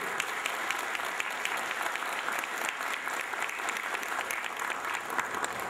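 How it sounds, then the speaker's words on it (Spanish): Audience applause at an academy ceremony, sustained and even clapping from a sizable crowd, moderately distant and steady for several seconds. "El aplauso"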